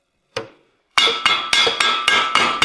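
Hammer blows ring out while a drive shaft is being fitted in a shop, one isolated strike followed by a steady run of six sharp metallic hits at an even rhythm, loud and close with no talking.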